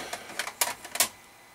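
Plastic clicks and clatters of a cassette tape being handled and pushed into a Magnavox D8443 cassette player, several short sharp knocks close by, then quiet.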